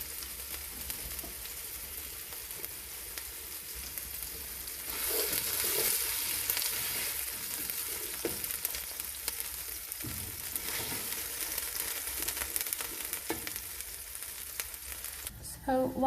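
Frozen onions fry in a pan with a continuous crackling sizzle that grows louder and busier partway through, broken by occasional stirring scrapes and clatters near the end.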